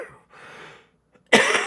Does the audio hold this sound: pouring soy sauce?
no